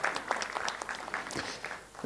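An audience at a film event applauds a singer. The clapping is faint and scattered, with a few distinct claps rising over a light, uneven patter that fades slightly toward the end.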